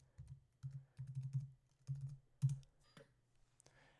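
Someone types a master password on a computer keyboard, a quiet, close run of soft key taps in short irregular bursts with brief pauses between them.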